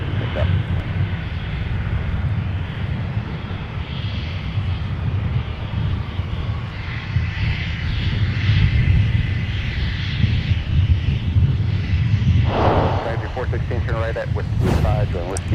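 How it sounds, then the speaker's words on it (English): Sun Country airliner touching down at Minneapolis–Saint Paul airport, a heavy continuous jet roar and low rumble heard from a distance, steady throughout with a brief swell near the end. "Sun Country 416 now touching down from Miami, Florida"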